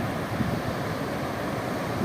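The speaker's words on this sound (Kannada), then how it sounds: "ನೀರು ಹೇಗೆ ಬೋರ್ ಗರಿತಾ ಇದೆ" Sea water roars as waves break along the Karwar coast, a continuous broad wash of surf with wind buffeting the microphone, steady and close with no voices.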